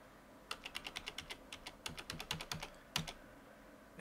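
Computer keyboard typing in quick bursts of crisp, close key clicks, a run of taps, a short pause, then another flurry, quiet with no voices.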